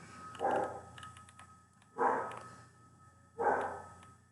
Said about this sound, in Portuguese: Desculpa se vocês estão ouvindo o cachorro latir, eles ficam meio doidos